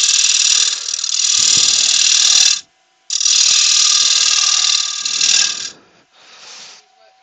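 A wood lathe turns a workpiece while a gouge takes a finishing cut, giving a loud, hissing, rattling scrape in two long sustained passes separated by a brief pause, then a shorter, fainter pass at the end.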